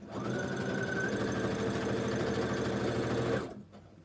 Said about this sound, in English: when it gets on the square, pull out my pin, and I just sew right off.